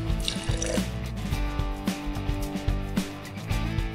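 Green-coloured water pours into a layered rainbow jar already holding corn syrup and dish soap, a close trickling and dripping stream with irregular splashy drips over a few seconds, no speech.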